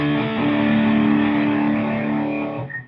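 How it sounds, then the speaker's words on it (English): Electric guitar with overdrive giving a rock tone, a single sustained distorted chord ringing loud and steady for under three seconds before cutting off. "especially if you put a little bit of overdrive on your guitar."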